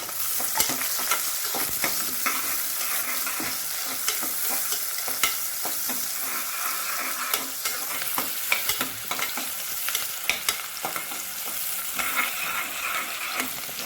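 Steady crackling sizzle of finely chopped large onions frying in a pan, with occasional sharper pops and stirring scrapes throughout, close and continuous.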